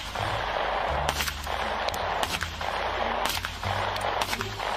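Gunfire in the Free Fire video game, a few loud single shots spaced about a second apart over a steady roaring background.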